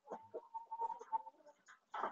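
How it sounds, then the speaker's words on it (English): Laying hens and a rooster on a small homestead farm cluck and call faintly, a string of short clucks and chirps in quick irregular succession with a louder call at the end. "these are my ladies, my laying hens, and my big rooster boy"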